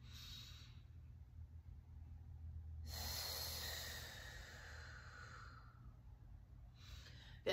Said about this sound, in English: Big inhale through the back hand. And then exhale all the way, all the way.